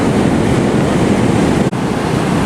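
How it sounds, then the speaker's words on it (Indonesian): Big ocean waves crash steadily at Parangtritis beach in a loud, continuous broadband surf roar with no voices. "dengan ombak yang besar"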